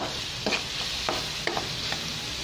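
Kangkong and tofu are stirred in a hot pan, giving a steady close sizzle broken by a few sharp scrapes and clinks of the spatula. No one talks.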